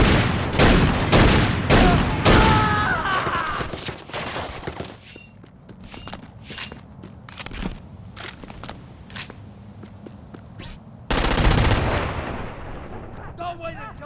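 Gunfire and exploding barrels in the video game Crackdown 2: a dense burst of loud rapid shots and booms, then scattered single shots over a rumbling background, then another heavy blast.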